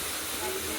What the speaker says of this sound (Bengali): ভাত ফুটছে